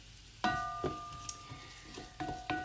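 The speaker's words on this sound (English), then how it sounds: "Onions in, stir them around." Chopped onions sizzle softly in a pan while a utensil scrapes and clicks against it in a few sharp stirring strokes, quiet and close.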